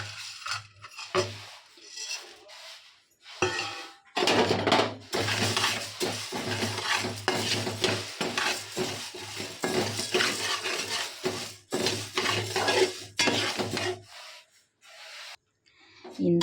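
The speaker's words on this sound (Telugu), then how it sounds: "ఇప్పుడైతే ఇందులోనే కందిపప్పు వేయించుకుంటున్నానండి" Toor dal being dry-roasted in a pan, with a steady rough scraping and rubbing of a spatula against the metal that runs nearly without a break, close and moderately loud, along with a few short pauses and a low hum underneath.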